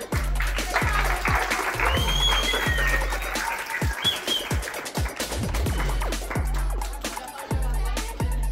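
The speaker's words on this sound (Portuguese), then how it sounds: "Uma salva de palmas para vocês." Round of applause for artists at an urban street-art event, moderately loud crowd clapping with sharp individual claps, birdsong chirping faintly in the background.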